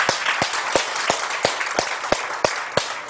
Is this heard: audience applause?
yes